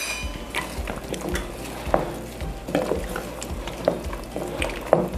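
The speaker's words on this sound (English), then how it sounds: "Let's give this a stir in the meantime." A utensil stirs carrots, onions and celery in a pot for minestrone, giving soft scraping with occasional light clinks against the pot over a gentle sizzle, close and without talking.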